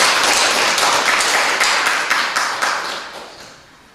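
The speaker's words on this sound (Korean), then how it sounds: "금산면에 오신 어르신을 위해서 감사의 박수를 드리겠습니다." A church congregation at a Sunday service applauds in thanks for visiting elders, a close, lively patter of many hands that starts full and gradually thins and fades over four seconds.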